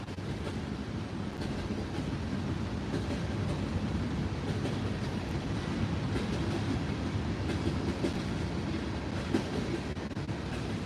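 A train rolls by nearby in a steady, loud rumble with faint wheel clatter, holding constant for about eleven seconds with no voices over it.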